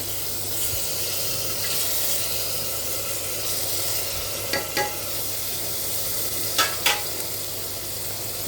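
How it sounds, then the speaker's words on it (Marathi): Soaked black peas (kala vatana) fry in masala for a usal, giving a steady sizzle throughout. A few brief stirring scrapes break through near the middle and end, with no talk. "तर त्या स्टेपला आपण आता काळे वाटाणे भिजवलेले टाकत आहोत."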